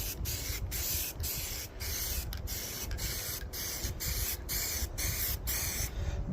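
Spectral automotive touch-up paint is sprayed onto a car in a run of steady close hissing bursts, each separated by brief pauses, with no talking.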